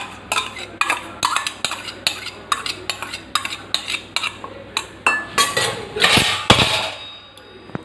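Homemade sour yogurt (curd) is whisked in a metal tiffin box, giving a steady, rhythmic run of close metallic clinks and scrapes, roughly two or three per second, with no talking.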